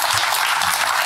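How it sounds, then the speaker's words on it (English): A short, dense burst of audience applause welcomes a speaker to the stage at a talk, filling the moment evenly and without speech. "please give him a round of applause to welcome"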